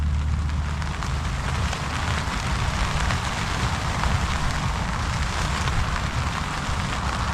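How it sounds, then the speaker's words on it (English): Steady rain pattering down on a cold morning at a motorcycle rally campsite, a dense continuous hiss of drops on surfaces with a low rumble underneath and no voices. "And of course the next morning the rain arrived."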